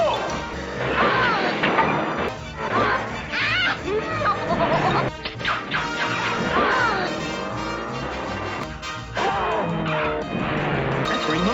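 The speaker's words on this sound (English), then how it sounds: "My beautiful new car is all smashed up." A car crashing and getting smashed up in a Speed Racer video game, with repeated loud crunching impacts and clatter amid excited talking and game noise throughout.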